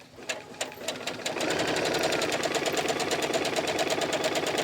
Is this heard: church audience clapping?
no